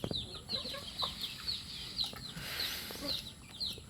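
Gamefowl chickens, Thunderbird breed, cluck and chirp repeatedly at a moderate distance over a faint background hiss, short calls coming in a loose rhythm.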